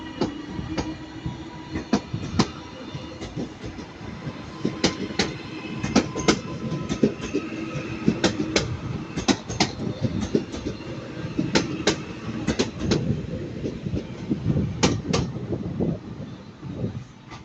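Two coupled East Midlands Class 158 diesel trains depart Manchester Piccadilly with a steady rumble. Sharp clattering wheel clicks repeat irregularly throughout, with no talking.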